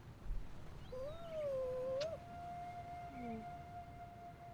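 A cat in the video game Uncharted 4 gives a long, wavering meow-like cry that slides up and then holds steady, with a short sharp click partway through and a softer falling cry afterwards.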